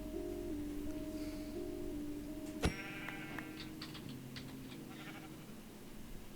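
Sheep in a video game give a short bleat near the middle, a single bright wavering cry heard fairly close over quiet game ambience and a soft looping musical tone, with no talk.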